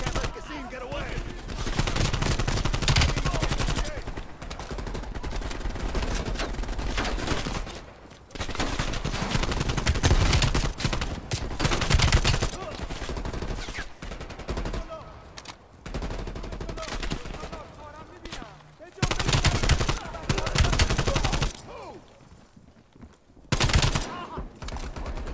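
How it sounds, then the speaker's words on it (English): Gunfire in the video game Call of Duty: Black Ops Cold War: dense, loud bursts of shots and blasts crowding together for long stretches, broken by brief lulls, with faint game chatter underneath. "That's shotgun, isn't it?"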